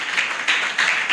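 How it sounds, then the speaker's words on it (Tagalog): A church congregation claps together during a Sunday morning worship service, a brief burst of applause that swells in three quick waves, fairly close and even, with no voices over it. "Palakpak nga para sa Panginoon."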